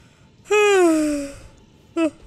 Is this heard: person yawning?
yes